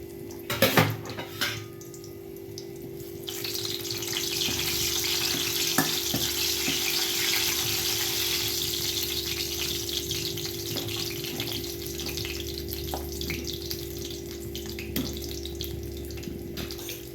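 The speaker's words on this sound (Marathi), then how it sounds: "याच्यामध्ये तो तडका द्यायचा आहे याच्यात थोडासा लसूण घेतला आहे" Garlic tempering for Marathi-style methi dal sizzles in hot oil, a steady, close, loud frying hiss that begins after a few soft knocks and continues evenly over a low hum.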